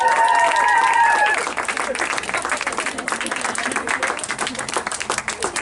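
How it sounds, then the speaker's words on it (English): Wedding guests applaud loudly, with dense clapping and some whistles at the start, then steady applause continuing under faint voices. "let's make applause for the parents"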